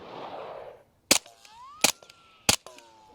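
Three sharp suppressed handgun shots fired on a range, spaced unevenly about a second apart, each a loud crack with a short ringing tail, after an opening stretch of low rushing noise.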